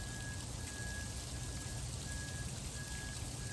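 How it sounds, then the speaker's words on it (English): Large snow pellets falling steadily outdoors during a snowfall, producing a constant, even patter like rain on surfaces throughout, with no talking. "It's not even sounding like it's really snowing anymore. It's more sounding like it's raining. But it's snow."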